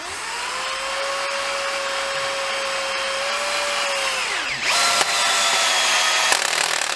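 A cordless drill, one of a Makita HP332D 12V, Milwaukee M12 CPD or DeWalt DCD776 18V, drives a screw into wood with a steady loud whine that strains and drops in pitch as the screw seats, then a brief higher burst.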